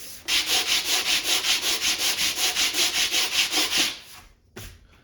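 An orbital sander grinds through wood veneer into the particle board beneath during furniture repair, a loud close whir pulsing in even strokes for about four seconds before it stops and a short bump follows.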